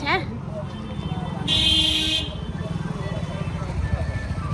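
Jammed street traffic idles in a rumbling mix of engines, with a sustained vehicle horn blaring for under a second near the start and brief engine tones. A person speaks over the noise.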